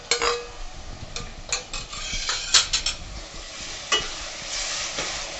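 Onions with a little salt fry in a pan for a jackfruit and dried shrimp bhaji, a steady sizzle punctuated by sharp scrapes and knocks of a spatula stirring against metal, close and clear, no voices.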